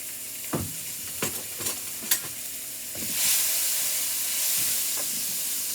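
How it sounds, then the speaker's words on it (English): Onions frying in leftover pork cutlet grease, with several scraping stirs at first and then a broad, steady sizzling hiss that swells and holds, close up and with no talk. "I'm going to put my onions in that same grease that I already had, that I just cooked the pork cutlets in"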